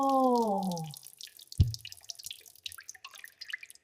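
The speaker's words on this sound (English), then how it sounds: "Oh no, the water is still dripping." A single sharp water drip lands in a new house, a close, clear plop after a brief fading tone, followed by faint scattered ticks and quiet background rustle.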